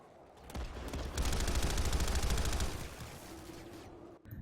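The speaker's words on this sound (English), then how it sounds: "Hearing a lot of gunfire from Delta." Heavy gunfire in a multiplayer video game match, a dense rapid burst of automatic fire at a distance building for a few seconds before dropping off, with no talking.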